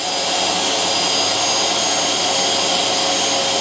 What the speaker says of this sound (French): Après, je dois passer l'aspirateur.